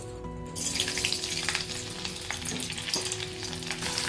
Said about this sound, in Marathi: आता तेल तापत ठेवू, त्याच्यात आपण लसूण टाकूया।